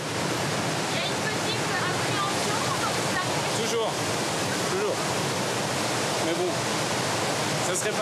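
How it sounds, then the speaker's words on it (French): Continuous loud roaring rush of an artificial standing river wave on a Munich city surf spot, formed by an uneven riverbed, a steady broadband wash with faint background voices under it. "glisser sur cette vague artificielle, créée par l'irrégularité du lit de la rivière"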